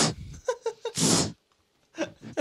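A voice imitates a weird sneeze: a few short sharp breaths, then one loud, breathy, explosive burst, a brief silence and a couple more quick gasps, all close up.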